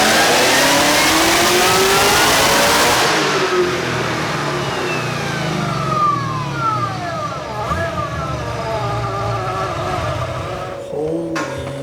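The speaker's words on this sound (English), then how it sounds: "So you rev this thing too?" A Cadillac CTS-V fitted with an Edelbrock 2650 supercharger revs hard up front, then its engine note and supercharger whine sweep up and down through several rising, falling pulls, loud and close throughout.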